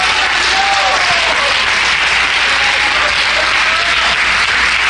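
A church congregation applauds during a Holy Week sermon, a loud, continuous, dense roar of clapping that stays even for the whole stretch, with faint voices mixed in.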